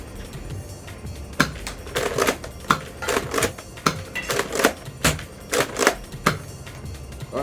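Foam darts pushed into Buzz Bee lever-action Sentinel blaster magazines, giving a run of sharp plastic clicks and snaps at an uneven pace, close and fairly loud over a low room hum.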